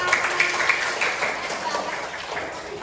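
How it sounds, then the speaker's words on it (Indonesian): Children in a classroom clap their hands together in a steady, busy patter that keeps going for the whole stretch, with young voices mixed in. "Ayo tepuk tangan untuk kita semua"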